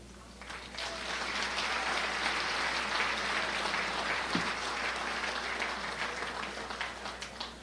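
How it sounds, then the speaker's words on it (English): A civic audience at a State of the City event in Crown Point, Indiana applauds its Longevity Award winners: dense, sustained clapping that swells quickly and holds for several seconds before easing. "One more round of applause for all our Longevity Award winners tonight"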